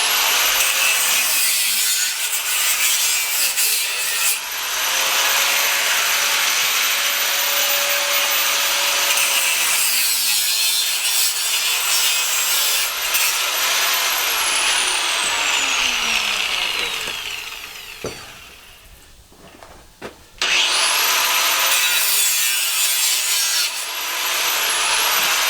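A 4.5-inch angle grinder cuts copper away from brass fittings clamped in a vise, with a loud, high whining grind that holds steady, dips as the cut eases, then surges back up.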